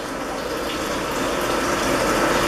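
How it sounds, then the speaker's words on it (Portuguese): Water sprays from the nozzle sections of an agricultural sprayer during a simulator test, a steady, dense hiss that holds at an even, close level throughout. "eu verifico aqui que está saindo água no pulverizador"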